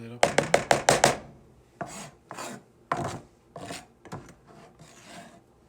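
Chopped avocado and other guacamole ingredients scraped off a cutting board with a knife: a quick run of six sharp scrapes and knocks, then several softer, spaced scraping strokes, close and clear with no talk.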